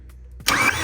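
A BMW V10 engine from an M6, with its old coils removed, cranks over for a compression test, a loud broadband churn starting abruptly partway in and continuing steadily to the end.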